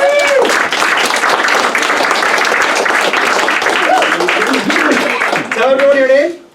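An audience at a magic show claps for a volunteer, dense loud applause that runs steadily for several seconds before fading out, with some voices mixed in.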